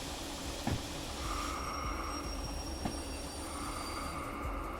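A train with two locomotives starting to roll in the Derail Valley railroad game, a steady low rumble broken by a couple of sharp clanks and faint wheel squeal, with no talk.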